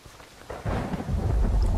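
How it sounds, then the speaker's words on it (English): Thunder and rain in the video game Minecraft, in a Lord of the Rings modded world: a low rumble swells in after a quiet start and rolls on loudly over steady rainfall. "Oh, and the thunder is terrifying."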